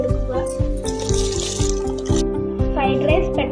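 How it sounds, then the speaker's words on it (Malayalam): Rice tipped into boiling salted water in a pressure cooker while making fried rice, giving a brief rattling hiss in the middle over steady background music. "വെള്ളം തിളച്ചു വന്നതിലേക്ക് അരി ഇട്ട് കൊടുക്കുക."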